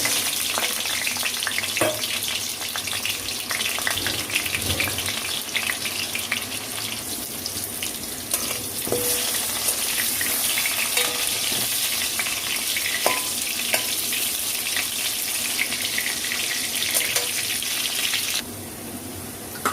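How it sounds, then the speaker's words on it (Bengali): Salt-and-turmeric-coated potato pieces fry in hot mustard oil in a kadai, giving a loud, steady, close sizzle with occasional light clinks of stirring. There is no talking. "এবার আমি এতে নুন হলুদ মাখানো আলুগুলো দিয়ে দিচ্ছি"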